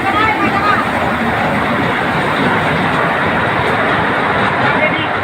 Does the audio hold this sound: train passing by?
yes